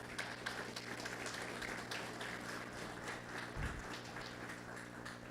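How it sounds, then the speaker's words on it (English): Audience applause for awardees at a company ceremony, a steady wash of many hands clapping at moderate distance with a brief low thump partway through. "I wish all of us to give the awardees a very lusty round of applause"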